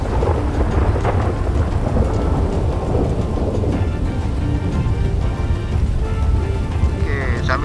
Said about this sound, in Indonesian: Petir menyambar.